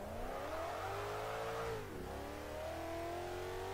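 Zenvo supercar engine revving in Garry's Mod racing, a steady loud drone with rising harmonic pitch, a brief dip near the middle as gears shift, then climbing again; no talking.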